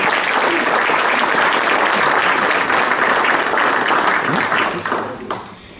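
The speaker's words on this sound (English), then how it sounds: "So a round of applause for Lieutenant Archibald." An audience at a city council meeting breaks into steady, loud applause honoring a fire lieutenant, sustained dense clapping that tapers off toward the end.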